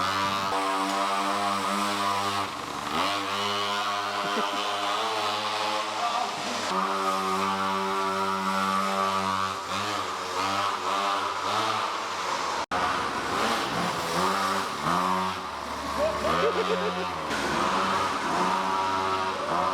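A small Blata quad's engine, started with a pull cord, buzzes loudly and revs repeatedly, its pitch rising and falling in surges across a long stretch with no voices over it.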